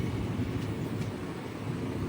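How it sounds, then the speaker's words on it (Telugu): Guntur–Visakhapatnam double-decker express crossing over nearby, heard as a dense, even rumble of passing rail cars with no clear breaks, moderately loud and alone. "double decker Guntur Visakhapatnam double decker express cross over"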